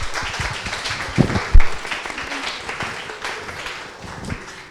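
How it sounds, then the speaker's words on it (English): Applause from an audience at a public lecture on non-places of cities, a broad wash of clapping that swells briefly in the middle and then tapers off, with no talk over it. "let's give a round of applause to our participants."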